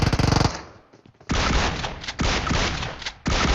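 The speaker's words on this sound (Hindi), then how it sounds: "फिलहाल चारों तरफ फायरिंग हो रही है," Gunfire crackles from every direction in a PUBG Mobile match, a rapid burst opening the clip, then a brief lull before loud, dense volleys resume and continue in overlapping waves.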